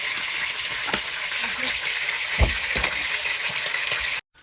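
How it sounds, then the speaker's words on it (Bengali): Chicken pieces frying in oil in a pan for a chicken roast, a continuous hissing sizzle with a few clicks and a thump of a utensil, ending abruptly. "চিকেনটা এদিকে ভাজা হচ্ছে"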